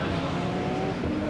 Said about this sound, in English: that's van Zimmeren in the other R34 Skyline Nissan